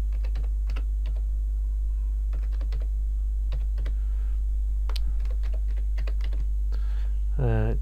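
Keystrokes tap out on a computer keyboard while a name is entered for a WordPress theme export, arriving in uneven bursts of light clicks, close and clear, ending with a brief voice.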